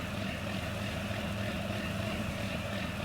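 A tractor in Farming Simulator 19 is cleaned with a pressure washer, giving a steady, even hiss of spray over a low engine hum that holds constant throughout.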